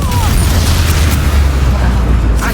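A Confringo fire spell from the Hogwarts Legacy game bursts in a loud, deep, rumbling explosion that fills the short moment, with a low boom sustained to the end.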